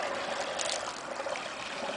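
Ground-up food waste from an InSinkErator disposal unit poured into a biogas digester, a steady continuous wet trickling and splashing stream heard up close without a break.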